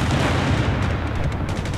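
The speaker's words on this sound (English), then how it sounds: "now the artillery is gonna pound on the bastards" Dense, continuous rumble of artillery barrages and gunfire in Company of Heroes 3 on the Winter Line map, booming steadily and loudly throughout with no clear gaps between blasts.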